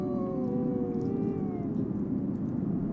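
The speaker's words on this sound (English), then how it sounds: "Of course, not all howling means the same thing." A long, mournful wolf howl glides slowly downward in pitch over a low rumbling background, sustained and moderately loud.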